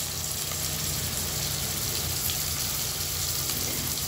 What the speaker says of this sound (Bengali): এখন পেঁয়াজের সাথে এই মশলাগুলো ভালোভাবে মিশিয়ে নিচ্ছি